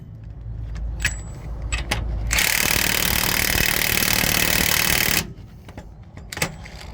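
Nuts on the U-bolts of a MAN truck's rear leaf spring are run down with a power tool in one loud, steady burst of about three seconds, with clinks and ratchet clicks before and after it.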